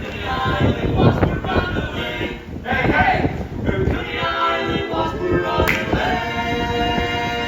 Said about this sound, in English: it's still just as windy as ever